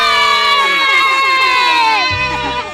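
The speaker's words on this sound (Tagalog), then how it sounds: "mag-ingay tayo kay John Ray Pasamonte" Crowd at a youth boxing sparring event cheering loudly for a 12-year-old boxer, children's shouts and high excited voices rising and falling in a dense wash, briefly tapering at the end.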